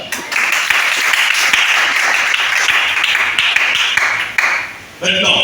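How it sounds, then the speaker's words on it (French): A church congregation breaks into loud, steady applause that fills the room, the clapping pausing briefly near the end before picking up again. "Acclame chacun."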